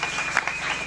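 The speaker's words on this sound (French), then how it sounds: "On acclame pour la parole de Dieu." A church congregation clapping together, a brief dense burst of applause heard close, with a faint voice mixed in.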